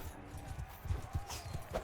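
Horses galloping in the video game Mount & Blade II, a quick run of soft, rhythmic hoof thuds, fairly faint, with no speech.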